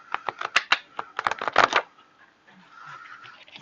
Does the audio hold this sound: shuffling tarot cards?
yes